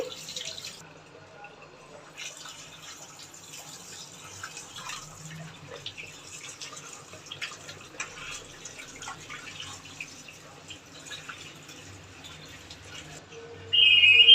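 Salted fish pieces being washed by hand in water in a kitchen, with soft splashing, trickling and dripping that continues steadily at low level, then grows louder and closer right at the end.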